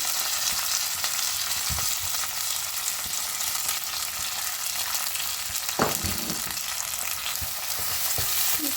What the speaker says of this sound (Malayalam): കടുക് ഉലുവയൊക്കെ പൊട്ടി വരുന്നുണ്ട്